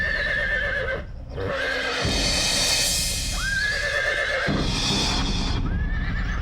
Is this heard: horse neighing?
yes